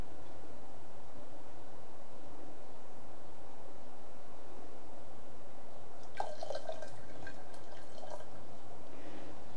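Water ladled from a kettle during a Mushakojisenke-style Japanese tea ceremony, a faint splashing pour near the end over a steady hiss of room noise, with no talk.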